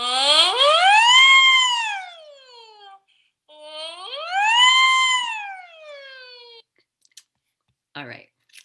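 A voice imitates a siren, sliding pitch up and down in two long wailing sweeps, followed by a few brief clicks and a short breathy sound.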